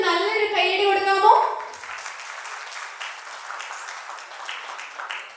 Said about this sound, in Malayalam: നമ്മുടെ പ്രിയപ്പെട്ട വരനും വധുവിനും ഒരു നല്ലൊരു കൈയടി കൊടുക്കാമോ?